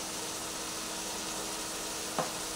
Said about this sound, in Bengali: সব মিশিয়ে এরপরে প্রথমে আমি ভেজে নিচ্ছি